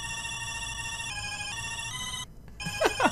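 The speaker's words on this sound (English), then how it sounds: "total side note regarding the phone going off" A telephone rings in a room with a repeated electronic tone pattern that shifts pitch, then cuts off abruptly and is followed by a short rising vocal sound.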